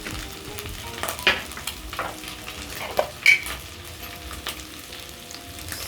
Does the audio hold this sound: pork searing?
yes